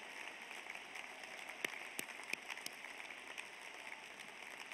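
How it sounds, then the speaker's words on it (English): Applause from a commencement ceremony audience, a dense, even patter of many hands clapping that sounds distant and fairly quiet, with no voices over it. "I ask them to stand and acknowledge your applause"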